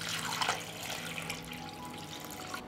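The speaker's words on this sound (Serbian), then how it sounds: "I sipat ću vodu do vrha poklopca." Water pours into a pot lined with a cloth and packed with jars, making a close gurgling splash that is strongest at first and then settles into a quieter trickle.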